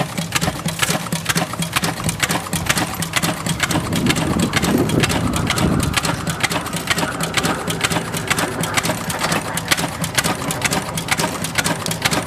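An old engine at a rally runs slowly with a steady rapid chugging beat, close and continuous, holding a constant rhythm throughout with no talk over it.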